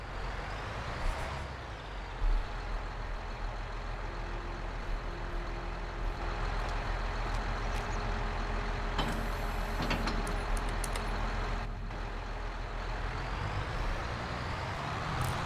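A John Deere tractor engine rated at 300 horsepower drones in the game Farming Simulator 22, pulling a baler. The steady, loud engine hum holds for about fifteen seconds with a few brief clicks and shifts.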